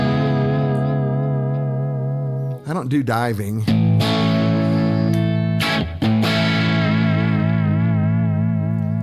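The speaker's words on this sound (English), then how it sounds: "where it sounds like a warbling tape" An electric guitar's vibrato bar bends sustained distorted notes into a wobbling, warbling tape-like waver, with short bursts of strummed chords and a brief spoken remark between phrases.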